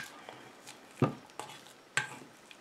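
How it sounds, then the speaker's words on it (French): Homemade 4-in-1 shampoo mixture being stirred in a bowl after fragrance drops go in, giving a few quiet, spaced scrapes and taps of a utensil against the container. "Et je mélange."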